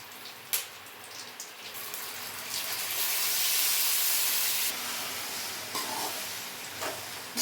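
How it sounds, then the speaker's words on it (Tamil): Spinach being tempered in hot oil with mustard seeds and curry leaves gives off a loud, steady sizzle and steamy hiss that swells in the middle, broken by a few crackles and pops. "எண்ணெய் ஊற்றி கடுகு போட்டு கருவேப்பிலை போட்டு கீரையை கொட்டி தாளிச்சாச்சு"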